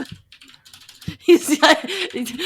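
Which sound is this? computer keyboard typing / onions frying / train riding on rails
computer keyboard typing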